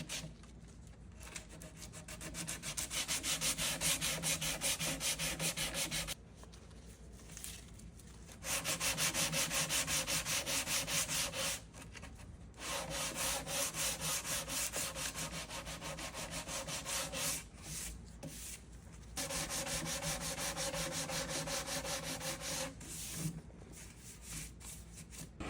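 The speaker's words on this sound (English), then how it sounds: "I wrap it around my sandpaper and it just helps me get into those little grooves" Raw wood furniture is hand sanded with sandpaper wrapped around a contour pad to reach small grooves, giving steady close rasping strokes in several long bursts separated by short pauses.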